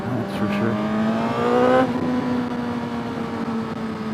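A 2022 Suzuki GSX-R1000R motorcycle exhaust drones, rising briefly in a short rev before dropping back to a steady idle; close, with no talking.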